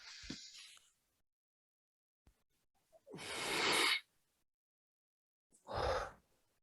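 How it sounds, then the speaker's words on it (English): A person takes a deep breath in, heard as three separate breathy bursts: a short one near the start, then a longer, louder inhale, and another full breath toward the end, with quiet gaps between them. "Deep breath in."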